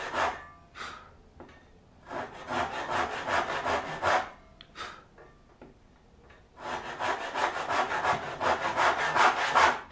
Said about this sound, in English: I'm not gonna try to advance on that cut line until I've got a solid straight kerf here.